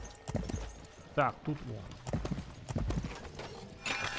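Horses in Sacred 2: Fallen Angel clop along with rhythmic hoofbeats and let out a short whinny nearby, while someone talks over them.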